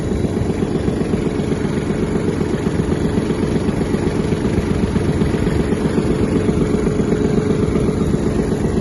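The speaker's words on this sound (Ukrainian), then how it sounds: "Заводиться трактор легко." Japanese Kubota T-22 mini tractor with its engine running steadily, a close, loud, continuous rumbling chug with an even rhythm and no talk over it.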